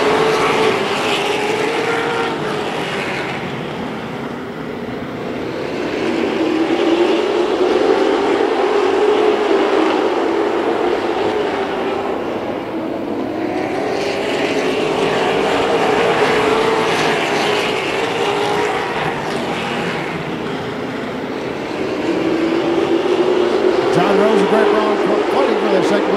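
Race cars sweep past under green flag racing in a long, roaring engine drone that swells and fades in waves as the pack circles, with an announcer talking continuously over it.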